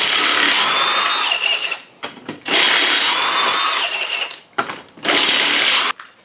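A power tool, likely an impact wrench, whirs in three loud sustained bursts with short pauses between them while removing the front tire of a Mazda 5 in a garage.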